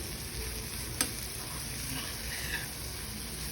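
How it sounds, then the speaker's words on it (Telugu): Grated elephant foot yam lightly frying in a pan, with a faint, steady sizzle and a single small tick. "లైట్గా ఫ్రై చేసుకోవాలి"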